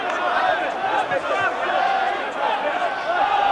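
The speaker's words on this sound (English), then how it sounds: "the crowd are chanting, "Are you Bradford?"" Rugby league crowd at a Bradford versus Warrington match in 2009, a loud, steady mass of voices chanting together in the stadium, filling the whole stretch without a break.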